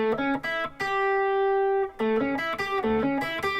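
Electric guitar playing a blues lick that rings out a sustained dominant 7th chord in the middle, with picked single notes before and after, loud and close with no talk.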